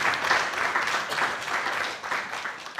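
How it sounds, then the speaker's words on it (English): Seminar audience claps in a short round of applause, moderately distant and fairly quiet, swelling and easing over a few seconds. "Let's give him a round of applause."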